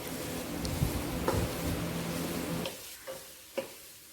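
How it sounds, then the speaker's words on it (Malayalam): Two sliced onions fry in oil for homemade chicken rolls, with a soft, close sizzle that fades partway through, followed by a few separate scraping stirs of the pan. "ഇതിലേക്ക് ഞാനിവിടെ 2 സവാള കട്ട് ചെയ്ത് ചേർത്ത് കൊടുത്തു. ഇനി നമുക്കിത് നന്നായി ഒന്ന് മിക്സ് ചെയ്യണം."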